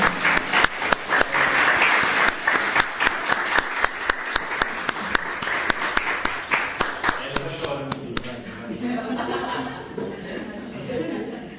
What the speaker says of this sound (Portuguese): Eu queria pedir uma salva de palmas para esse casal tão querido, tão dedicado.